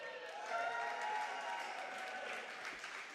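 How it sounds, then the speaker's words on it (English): Crowd applause at a men's college volleyball match between Lynchburg and Randolph-Macon, a steady wash of clapping from the stands held for several seconds at moderate distance. "gets a big round of applause from the Macon side"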